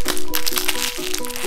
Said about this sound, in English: Sorry, I was just having fun unwrapping.